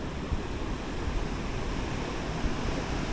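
Sea waves on the shore at Kovalam beach in Kerala, a broad, steady wash of surf mixed with wind buffeting the microphone, with no voices.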